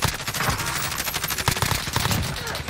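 Rapid automatic gunfire in Call of Duty Modern Warfare Zombies Royale, a loud continuous rattle of closely spaced shots filling the whole moment.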